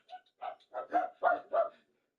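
A dog barks six times in quick succession, short sharp yaps at moderate volume indoors, then goes quiet.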